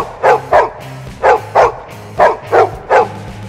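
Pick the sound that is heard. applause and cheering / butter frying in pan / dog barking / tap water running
dog barking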